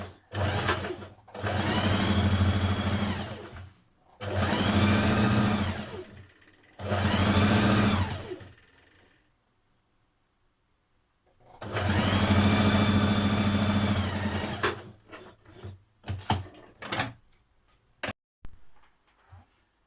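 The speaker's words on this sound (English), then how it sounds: "then I've just overlocked it" An overlocker sews a fabric hem for a refashioned top in four loud, close bursts of rapid mechanical whirring. A long pause comes before the last burst, then a few light clicks as the fabric is handled.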